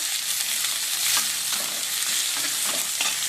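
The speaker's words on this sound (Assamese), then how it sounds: "তাৰপিছতে এইখিনি পিঁয়াজখিনি দি ল'লোঁ, কাটা পিঁয়াজ" Chopped onions frying in oil in a pan, a loud close sizzle that stays steady throughout with occasional stirring scrapes.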